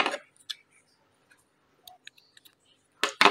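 Scissors snip crochet yarn up close: a few sharp clicks and short snips scattered through near silence, with a louder burst of handling noise at the start and end.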